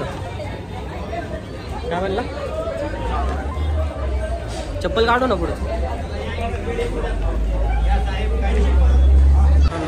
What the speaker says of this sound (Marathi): जरा जास्तच गर्दी आहे